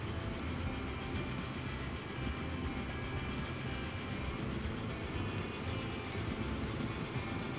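A train rolling along in the Transport Fever 2 game, a dense, steady low rumble with rail noise that holds at an even loudness throughout, with no voices over it.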